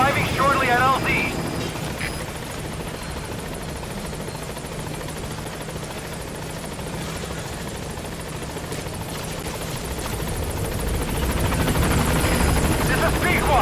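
Pequod, the support helicopter in Metal Gear Solid V, arrives at the landing zone with a loud, steady rotor roar and engine hum that swells slightly toward the end, while radio voices talk over it.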